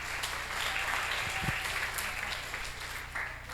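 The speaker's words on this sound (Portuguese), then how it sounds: "Um aplauso de Jesus pela vida deles." A church congregation applauding during a worship service, a dense continuous wash of clapping hands from a large crowd, steady and fairly loud throughout.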